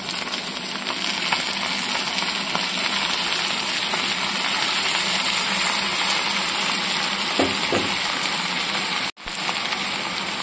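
Fish and vegetables frying in mustard oil give a steady, loud, continuous sizzle and crackle that holds throughout, with a brief dropout near the end.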